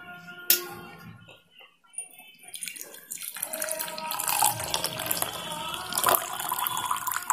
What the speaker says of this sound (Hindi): तब अभी से हम छान लेंगे।